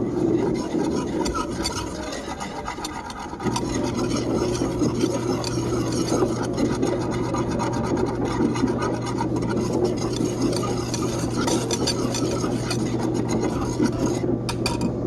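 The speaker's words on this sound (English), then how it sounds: "And I've got 3/4 cups of sugar going in my pan. And I whisk that together." Sugar being whisked in a pan for cherry pie filling, a steady rasping scrape of the whisk that grows fuller after a brief quieter start and continues evenly, with no talk.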